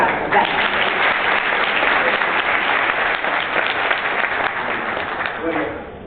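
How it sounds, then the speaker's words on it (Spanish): Loud, dense applause from a large crowd at a corporate presentation, sustained clapping that fades slightly toward the end. "Fuerte aplauso."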